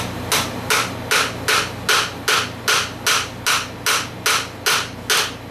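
A hammer taps a pin through a tight-fitting hole in about a dozen evenly spaced, sharp metallic strikes, close and clear with no talking.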